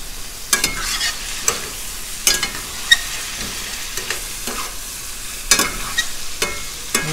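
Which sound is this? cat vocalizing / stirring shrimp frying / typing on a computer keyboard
stirring shrimp frying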